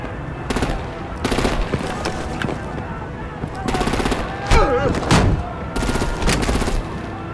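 Rapid bursts of automatic gunfire and heavy blasts crack close by in a Batman video game, arriving in repeated volleys with short gaps, mixed with voices and other combat noise.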